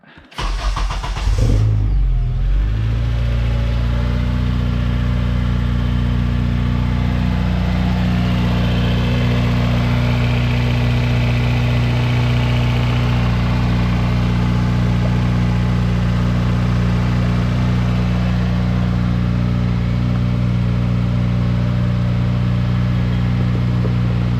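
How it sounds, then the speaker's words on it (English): A Honda Civic Si (8th generation) with a swapped K24A engine cranks and catches, then settles into a steady, loud idle that hums on evenly for a long stretch. "You can turn the car on whenever you're ready."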